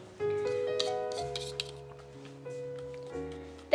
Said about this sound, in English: And keep stirring it.